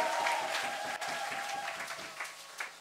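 A church congregation claps steadily through an Easter service celebrating the risen Christ, a dense, even patter of many hands filling the room with no voices standing out.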